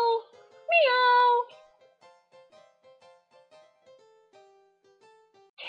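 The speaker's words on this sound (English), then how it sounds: "Cat." A cat meows clearly twice up close, a short call followed by a longer rising one, then a series of soft tonal notes plays quietly, with no talking.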